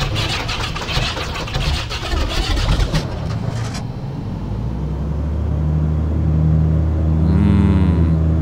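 A Piper PA-31 Navajo engine starting in X-Plane: a loud cranking clatter for several seconds, then the piston engine catches and settles into a steady, deep rumbling idle, close and with no talk.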